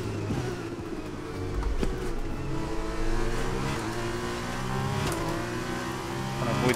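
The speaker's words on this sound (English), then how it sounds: "Trying to avoid the wheel spin as best as possible." An F2 race car in a racing video game at Imola revs hard while the rear wheels spin, a sustained rough engine drone that rises and falls in pitch over several seconds, loud and close with no talking.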